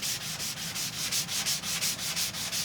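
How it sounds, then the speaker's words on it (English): Steady rhythmic hand sanding of a painted surface, a rasping scrub repeating back and forth about twice per second, close and continuous. "So I'm just sanding this down"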